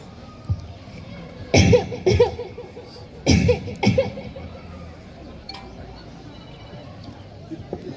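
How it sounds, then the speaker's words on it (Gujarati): A few harsh coughs from an elderly man in two short bursts, close to the listener, with quiet room sound and faint noises between them. "મને ખાંસી આવે છે"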